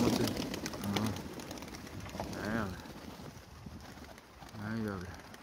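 Young racing pigeons on an east-wind training return, soft throaty coos heard twice amid faint outdoor rustle, fairly quiet and close, with someone speaking briefly at the start.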